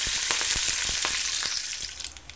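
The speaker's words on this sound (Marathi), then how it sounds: "मोहरी तडतडली की लगेच त्यामध्ये जिरे घालून घ्यायचे आहे" Mustard seeds splutter in hot oil for a tempering, a dense close crackle of rapid sharp pops over a steady loud sizzle, alone without talk.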